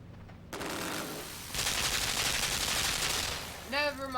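Gunfire bursts out in the video game Limbo as a dense rattling volley that grows louder midway, with a short tonal game sound near the end.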